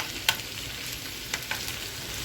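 Beans sizzle steadily as they sauté in a hot pan, with a few soft scraping clicks of stirring.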